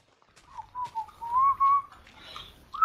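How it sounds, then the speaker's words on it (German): A person whistles a short, wandering tune of several sliding notes during a Minecraft gaming session, fairly close and moderately quiet, ending on a sharper rising note. "Alter, musst du pfeifen?"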